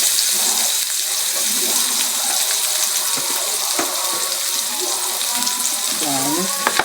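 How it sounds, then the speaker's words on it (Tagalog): Garlic and onion frying in a pan for a Filipino eggplant and egg dish, a loud continuous close hiss with scattered spatula clicks and scrapes and a brief squeal near the end. "Pa mag-start ng bawang and sibuyas."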